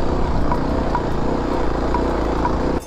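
Kawasaki KLX250 dual-sport motorcycle engine held at steady high revs while climbing a steep trail, a loud, continuous close-up drone with no talking.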